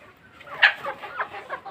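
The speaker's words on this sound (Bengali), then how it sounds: "ছোটোখাটো একটা মুরগির খামার" Hens on a small backyard poultry farm in the morning give soft, scattered clucks, a few short calls rising over a quiet background.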